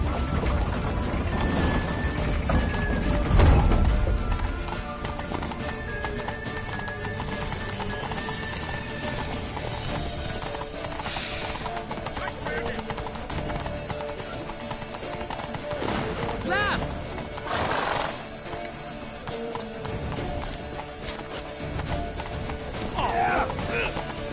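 Horse hooves clip-clop at a gallop in The Witcher 3 video game, a steady pounding rhythm under shouted voices, with a horse whinnying and clattering game sounds mixed in.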